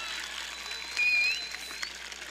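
A graduation crowd applauds the families in a large venue, with sustained clapping and cheering and a brief whistle cutting through partway.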